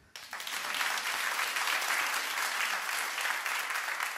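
A concert crowd breaks into applause after a brief quiet moment, the clapping swelling within a fraction of a second and then holding dense and steady.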